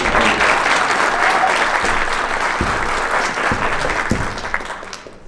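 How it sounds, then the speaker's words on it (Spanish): An audience at a judicial reform conference gives a magistrate another round of applause: dense, steady clapping fills the whole stretch at a strong, even level and tapers slightly at the very end, with no talk over it. "démosle un nuevo aplauso"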